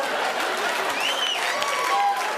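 A comedy show audience applauds in a thick, continuous wash of clapping from a large crowd, with faint whistle-like tones rising above the steady roar.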